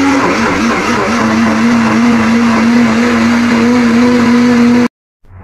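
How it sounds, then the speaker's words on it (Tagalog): A kitchen blender whirs steadily while it purees cooked chickpeas and fish in a marinade. The motor drone is loud and close and holds a constant pitch for about five seconds before it cuts off abruptly. "Ilagay na natin sa blender."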